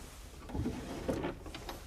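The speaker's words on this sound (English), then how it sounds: "Now open that drawer." A drawer in a domestic interior is pulled open, giving a few quiet wooden scrapes and knocks in a soft, close sequence with no talk over it.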